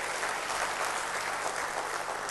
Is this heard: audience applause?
yes